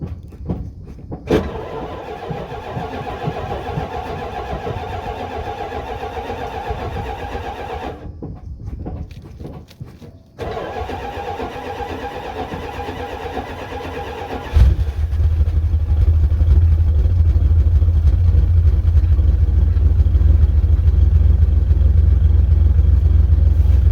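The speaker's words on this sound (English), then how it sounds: "Let me set you guys up and get this cold start." A car cold-starts in below-freezing weather with ice frozen in the exhaust pipe: a low background hum, then the engine abruptly catches and settles into a loud, steady, close idle.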